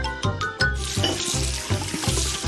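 Running water from a sink tap splashing as hands are washed beneath it, a steady close trickle and spatter with short bursts near the start.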